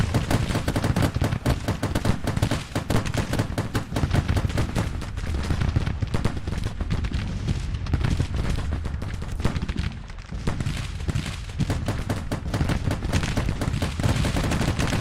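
Gatling guns rattle in the Grand Tactician: The Civil War video game, mixed with other battle gunfire, making dense, continuous rapid bursts that barely pause for fifteen seconds, loud and close.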